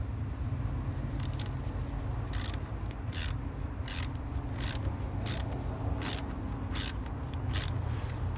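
Hose clamp on a 2003-2007 Honda Accord power steering reservoir being tightened with a ratcheting tool, a steady run of close, evenly spaced clicks over a low background hum.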